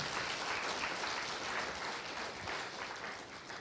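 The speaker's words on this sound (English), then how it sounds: "Can we just applaud that?" Audience applause fills the hall at a youth forum opening ceremony in Kigali, a dense, steady wash of many hands clapping together that holds strong throughout, easing slightly toward the end.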